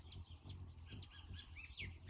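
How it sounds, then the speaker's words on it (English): A couple of hummingbirds chirp directly overhead, giving thin, high, rapid chirps in repeated bursts that sound close and fairly clear over faint low background noise. "There's a couple of hummingbirds right above my head."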